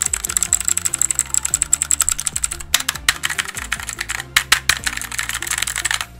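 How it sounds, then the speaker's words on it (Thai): Loud, rapid clicky typing on a blue switch mechanical keyboard, keys clacking in quick irregular bursts with no talking. "มันเป็นคีย์บอร์ดที่เสียงดังมากๆนะครับ"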